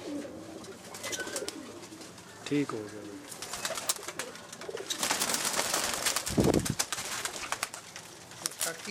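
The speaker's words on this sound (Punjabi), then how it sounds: "ਇਹਨਾਂ ਦਾ ਨਾਂ ਅਸੀਂ ਲਾਲ ਤੂਫਾਨ ਰੱਖਾ ਵਾ" A flock of Lal Toofan pigeons keeps up a steady, overlapping cooing nearby, while someone speaks over the birds and a few louder bursts break through.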